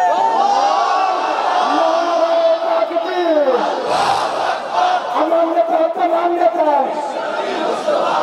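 A large crowd roars the takbir chant in unison, loud and sustained, rising and falling in repeated shouted waves with voices blending into a continuous bellow.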